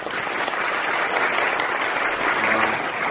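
Steady, dense audience applause at the final-performance curtain call of a staged-reading musical, 'The Little Prince', a full sustained wash of clapping from a large crowd without pause.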